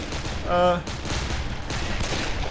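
Gunfire fills a battle in the video game Darkest of Days: a dense, continuous crackle of rifle shots with one brief, louder ringing burst early on.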